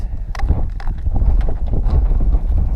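Gusts of strong wind on an exposed hilltop trig point in the Shropshire Hills buffet the microphone with heavy low rumbling and thumps, continuous and loud, no speech.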